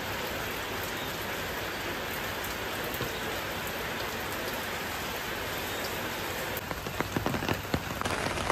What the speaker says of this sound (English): Started raining a lot.